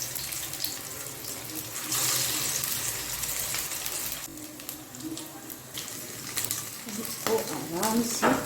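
Rice kebabs deep frying in hot oil give a steady crackling sizzle, with bursts of bubbling and a scrape of stirring partway through, faint voice sounds near the end.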